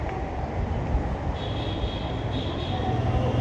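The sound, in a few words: metro station with trains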